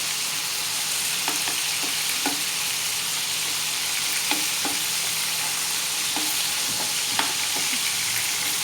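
Handi kababs frying in hot oil in a pan, a steady close sizzle throughout with occasional soft scrapes and clinks of stirring, no voices.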